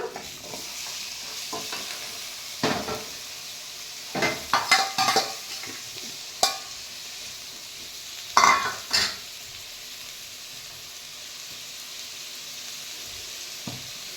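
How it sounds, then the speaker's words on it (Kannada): Tomatoes stirred into fried onions in a pan for prawn curry, with a soft steady sizzle and scattered scraping spoon strokes and metal clinks in a few bursts, close by with no talking. "ಈರುಳ್ಳಿ ಚೆನ್ನಾಗೆ ಫ್ರೈ ಆಗಿದೆ ಬಣ್ಣನೂ ಚೇಂಜ್ ಆಗಿದೆ ಈಗ ಟೊಮೆಟೊ ಹಾಕ್ಬಿಡೋಣ"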